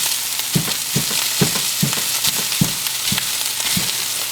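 Raw sausage sizzles and fries in a pan for gravy while a utensil chops and breaks it up, with rhythmic scraping strikes about twice a second over steady loud frying.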